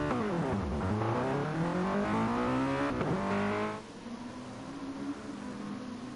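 Mazda MX-5 race cars on the Tsukuba circuit in Gran Turismo Sport rev up through rising engine whines and shift, then the pitch drops and the sound fades to a quieter, lower drone.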